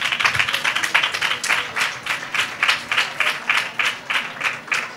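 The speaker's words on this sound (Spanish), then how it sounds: "Cristina, un aplauso para ella." An audience at a Spanish fair-season TV show claps in a steady, rhythmic unison beat, with sharp evenly spaced claps for several seconds.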